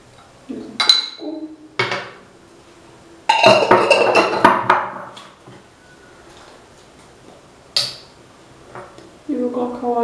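A coconut oil container is handled while a hair oil treatment is prepared: a few clicking, clattering knocks of plastic and glass, separated by pauses, close to the microphone, with someone speaking in between.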